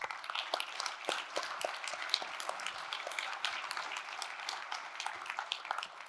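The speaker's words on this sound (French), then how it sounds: "on doit un tonnerre d'applaudissements à la FUP pour organiser ça depuis tant d'années" Faint, sustained applause from an audience at the Forum PHP developer conference: a dense wash of many hands clapping steadily for several seconds, distant and soft.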